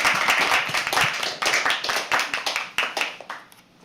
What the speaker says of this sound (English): Keep clapping till he comes on stage.